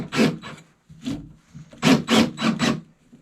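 A screw being driven into a wooden canoe seat by hand gives a series of short, close grinding rasps in uneven bursts, with no talking.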